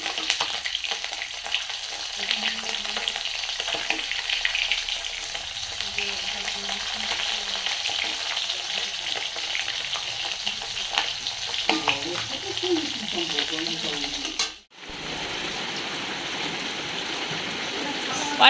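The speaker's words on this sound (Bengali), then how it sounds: "আর এই দিকে দেখো আমি এখন মাছ ভাজছি" Fish pieces frying in a pan in a village kitchen on a rainy day, a steady loud sizzle with stirring and occasional crackles, a voice talking over it, then a brief dip before the hiss resumes.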